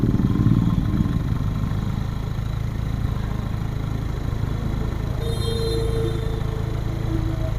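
TVS Victor 3V motorcycle engine idling close up during carburettor adjustment, a loud steady low putter that holds even throughout, with a faint high whine near the end.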